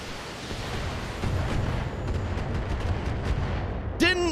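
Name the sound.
explosions around a tank in a video game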